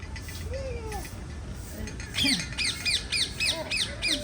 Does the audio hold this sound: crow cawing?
yes